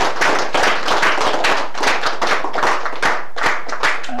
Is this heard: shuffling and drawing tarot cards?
no